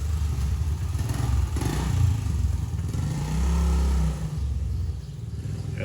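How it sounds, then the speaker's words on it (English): A neighbor's small motorcycle rumbles steadily nearby, its engine note swelling briefly as it revs before settling back to a low drone. "He's riding his little motorcycle."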